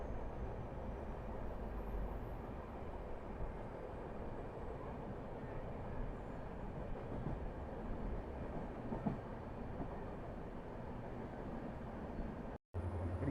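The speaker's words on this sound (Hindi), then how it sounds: "गुवाहाटी से चल कर के ओखा को जाने वाली ट्रेन है" Guwahati to Okha train, number 15636, passing near New Guwahati railway station, giving a steady loud rumble and clatter of rolling wagons that holds throughout with no talk.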